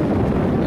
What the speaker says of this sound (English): I'm not sure if you can hear me over the wind or not